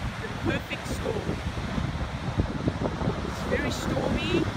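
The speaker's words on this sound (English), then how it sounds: "It's very stormy, great Pacific storm going on. And wanted to share the beauty of the waves" Ocean waves surge and break steadily at Aliso Beach in Laguna Beach, California, during a Pacific storm, with wind rushing constantly and brief murmurs of speech in the background.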